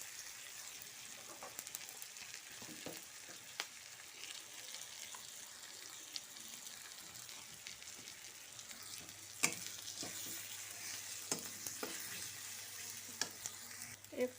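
Turmeric and chili powder frying in oil in a pan for raw jackfruit curry, a steady low sizzle broken by occasional stirring clicks and scrapes, close and quiet with no talking.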